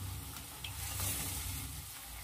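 Purnam boorelu, sweet stuffed fritters, frying in hot oil on a stove at medium flame, a soft, steady sizzle and bubbling heard close and quiet without any speech.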